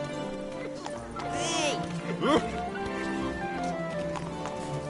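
A horse gallops in the video game The Witcher 3, with rhythmic clip-clop hooves running under a voice and a brief shout, a whinny-like tonal sweep rising in the middle.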